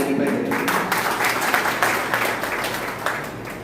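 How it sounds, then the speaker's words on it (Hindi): Attendees at a district school managers' association meeting clap together in a loud, sustained round of applause lasting the whole stretch, with a faint murmur of voices underneath. "आप सभी अपने लिए एक जोरदार तालियां बजाएंगे बैठे।"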